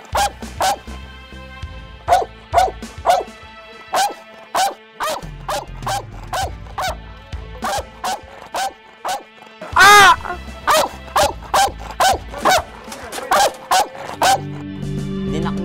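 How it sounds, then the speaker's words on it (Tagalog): A neighbor's dog barks in a steady series of sharp, evenly spaced yaps close by, one louder burst near the middle, continuing without pause through the whole stretch. "Yung aso niya dahil kumakahol."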